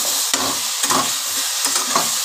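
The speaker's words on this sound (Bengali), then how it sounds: "ভালো করে নেড়ে নেব" Star fruit chutney with turmeric being stirred in a pan, with a few distinct scraping strokes of a spoon over a steady close sizzle.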